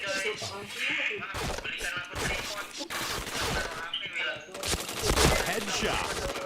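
Rapid gunfire in a samurai katana-themed shooter game, dense bursts of sharp shots and impacts repeating throughout, with a voice talking over the action.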